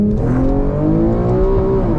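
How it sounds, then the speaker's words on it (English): A Nissan G37 engine revs hard in first gear and climbs steadily in pitch as it accelerates to the rev limiter, loud and close, with a strong continuous drone. "Like right here, I'll do a first gear pull."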